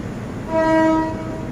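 A train sounds a single short horn blast while crossing the Chulalongkorn railway bridge, a clear tonal note of about half a second rising over the low rumble of the rolling train.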